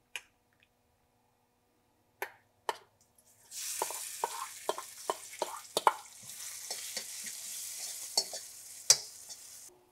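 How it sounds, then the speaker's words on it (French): Thai roasted chili paste (nam prik pao) being re-fried in a pan: a few sharp taps, then a steady sizzle with repeated scraping stirs and occasional clacks of the utensil against the pan. "on va d'abord refaire un peu frire la pâte qu'on a"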